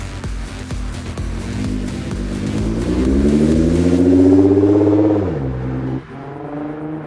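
A stock 2017 Nissan GT-R sports car revs hard on a dyno, its engine note climbing steadily in pitch and loudness for about five seconds before dropping sharply and settling to a lower idle, loud and close with no talking.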